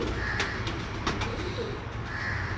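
Number-8 breeder pigeons in a loft, low rolling coos close by over constant background noise, punctuated by a few short sharp taps.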